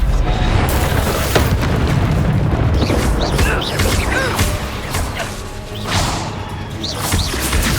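A Descendo spell slams down in Hogwarts Legacy combat, a loud crash and booming thud followed by rumbling debris and scattered magical whooshes, with game voices briefly mixed in.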